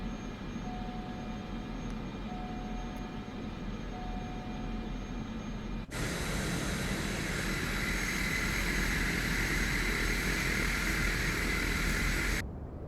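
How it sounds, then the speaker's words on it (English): A bush plane's engine in Microsoft Flight Simulator 2024 drones steadily, swells louder midway, then cuts off abruptly just before the end as it shuts down. "Let's shut down our engine."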